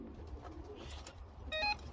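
Racing pigeon cooing softly during ringing of young birds, a few low murmuring coos among light handling noise, followed by a brief electronic beep tone near the end.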